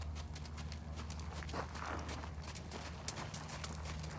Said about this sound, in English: Trot her forward. That horse will relax in a little bit.